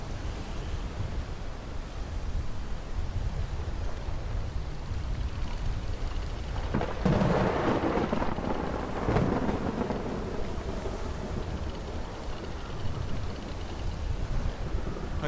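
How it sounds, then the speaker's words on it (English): Stormy sea in a sailing video game: a steady roar of wind and rain fills the whole stretch, with a louder thunder-like crash rising in the middle before settling back into the storm. No one speaks. "The wind's too strong."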